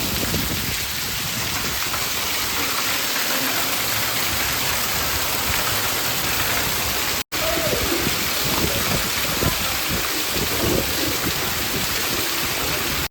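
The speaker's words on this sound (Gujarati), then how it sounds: "10 મિનિટમાં હે ને એટલો મેં પડી ગયો ને મુસળધાર, હજી બંધ નથી થયો." A torrential downpour of rain roars loud and continuous, a dense unbroken wash of drumming water that drops out for a split second midway before pounding on.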